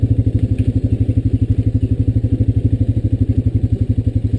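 A motorcycle idles with a steady, rapid rumbling pulse and a faint light rattle over old cobblestone on a railroad property, close and even throughout.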